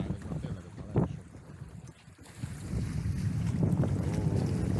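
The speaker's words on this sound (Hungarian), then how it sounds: "Hát fúj a szél. Meleg szél fúj" Warm wind blows at Lake Balaton, buffeting the microphone with loud low rumbling gusts that ease for a moment and then return stronger, over a faint wash of water.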